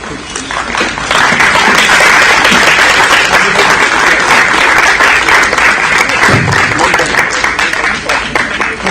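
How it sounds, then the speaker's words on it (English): Audience at a G20 tourism meeting in Srinagar applauding the unveiling of a national film tourism strategy draft, loud sustained clapping from a large crowd that swells after a second and holds steady. "let's have a huge round of applause, ladies and gentlemen"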